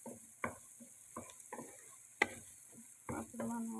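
Liver pieces with turmeric being stir-fried in a pan, quiet sizzling under a series of distinct spoon scrapes and taps spaced irregularly, close but soft.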